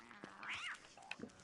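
A single drawn-out cat meow sounds in the middle of a quiet stretch of Don't Starve Together gameplay, with a few faint clicks and small game noises around it.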